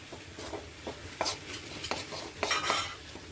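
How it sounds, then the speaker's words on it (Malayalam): A spoon stirs turmeric and masala into okra curry in a pan, giving scattered scraping and clinking strokes over a faint background sizzle, close and moderately quiet. "നമുക്ക് ഒന്ന് ഇളക്കി കൊടുക്കാം."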